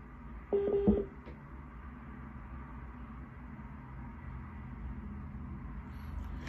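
A brief electronic phone tone, a short burst of beeps near the start, rings through during a call on a faint hissy line, then only a low steady background remains.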